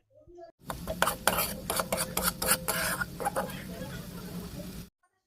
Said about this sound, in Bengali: এবার সমস্ত মশলা ভালো করে নাড়িয়ে চাড়িয়ে কষিয়ে নেব।